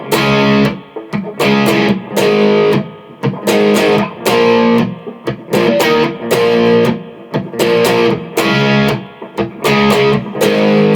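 Distorted electric guitar playing the verse riff of a song, with loud, chugging power chords and palm-muted notes in short rhythmic bursts separated by brief gaps, heard alone without talk.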